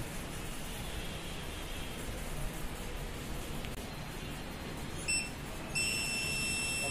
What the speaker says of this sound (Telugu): బీప్ సౌండ్ వచ్చిందంటే మనకి ఫుల్ షార్టేజ్ ఉంది.